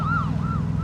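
Police car siren in a video game, a loud wailing tone rising and falling twice over a steady low engine-like drone, with no talking.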